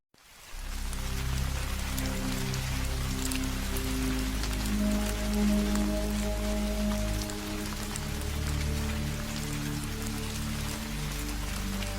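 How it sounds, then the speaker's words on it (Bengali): Light drizzle falls at night beneath an overcast sky: a steady, even patter of fine rain that holds unbroken over a low, faint tonal drone. "আকাশ মেঘাচ্ছন্ন হয়ে আছে, গুড়ি গুড়ি বৃষ্টিও পড়ছে।"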